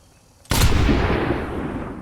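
A single sniper rifle shot from the Overwatch video game: silence, then a sudden loud crack that booms and rolls away into a long decaying tail.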